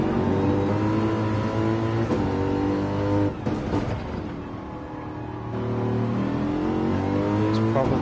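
In the Gran Turismo racing game, a Gr.3 race car engine revs hard at Trial Mountain, rising and falling through gear changes with a brief dip into a tunnel. A commentator talks over it.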